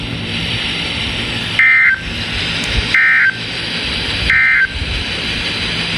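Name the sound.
National Weather Service weather radio warning alarm test tone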